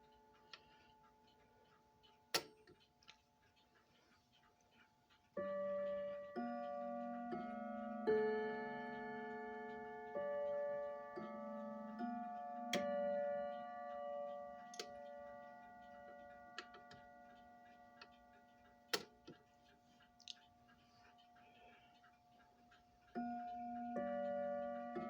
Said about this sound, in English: And I will show you what the chime sounds like.